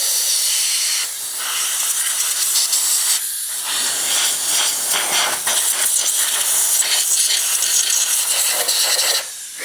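Compressed air blasts dirt off a used Chevy engine, a loud hissing rush in several long bursts with brief pauses between them, close to the listener.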